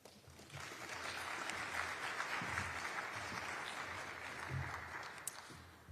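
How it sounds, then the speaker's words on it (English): Applause for Steve Sims at a Philadelphia officials' announcement about America's 250th birthday, a steady wash of distant, fairly faint clapping that holds evenly throughout. "Can we get another round of applause for Steve Sims?"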